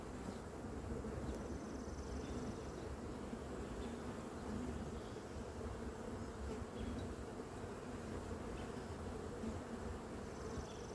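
A dense, constant hum of many honey bees buzzing in a hive with comb, steady and close, with no talking.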